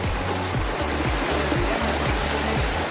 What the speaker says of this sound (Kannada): ರಾಮದುರ್ಗದಾಗ ಇರ್ತಕ್ಕಂಥ ಒಂದು ಫಾಲ್ಸ್ ರೀ, ಸಣ್ಣದು ಸ್ಮಾಲ್ ಫಾಲ್ಸ್.